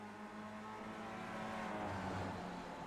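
Race car engine in the Rotax sim racing video game, droning steadily and loud throughout with a rising pitch as it revs, alone without voices.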